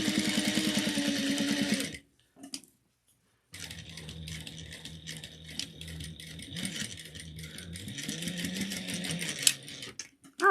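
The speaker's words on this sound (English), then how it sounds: "I'm going to baste this together real quick so it becomes one unit." A sewing machine bastes the layers of a zippered wallet-style ID case together, running in a steady close rattle, halting for about a second and a half, then resuming its continuous stitching.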